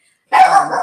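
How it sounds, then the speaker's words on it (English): A dog gives a single short, sharp bark close by after a moment of silence. "sorry, that's my dog."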